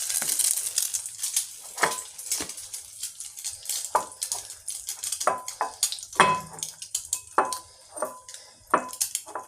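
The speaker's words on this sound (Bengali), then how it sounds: "আমি ডিম দিয়ে ভাজতেছি।" Eggs frying two at a time in a pan, with scattered sizzling crackles and sharp spatula scrapes against the pan in an irregular rhythm, close and moderately loud with no talking.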